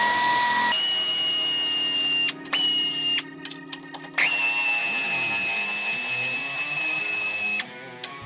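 A power tool spins out 10mm bolts on a 1999-2004 Jeep Grand Cherokee during radiator replacement, a loud steady whine broken by short stops and restarts, running close and alone.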